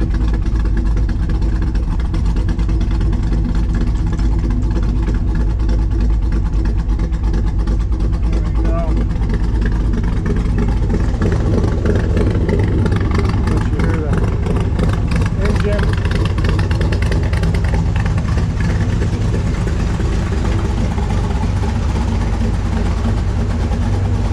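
A 1965 Chevrolet Corvette with the L79 327/350 V8, showing 77,000 miles, idles in neutral after warming up; its exhaust gives a steady, loud, close rumble that holds without a break for the whole stretch.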